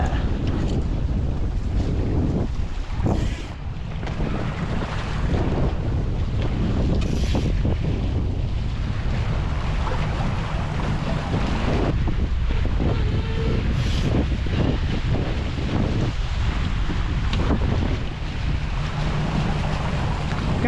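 Strong wind roars across the microphone while sailing a Hobie Getaway sailboat off South Texas, a loud, continuous rushing blast mixed with water and hull noise, with no talk.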